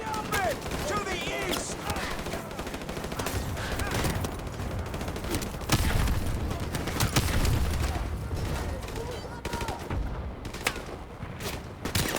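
Gunfire in Call of Duty 4 Modern Warfare Remastered on Xbox One X, sharp repeated shots and bursts through a loud, busy game soundscape, with someone talking over it at times.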